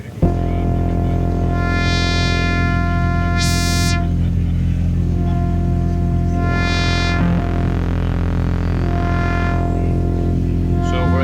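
Dreadbox Nyx mkII analog synthesizer with its two oscillators routed to separate parallel filters, sounding as sustained harmonic-rich tones that shift and swell between notes, loud and steady with no talk.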